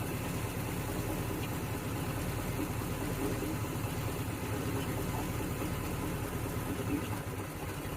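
A Ford F100 engine idles steadily after a carburetor and timing tune, a constant low rumble with an even, unbroken drone that holds for the whole stretch.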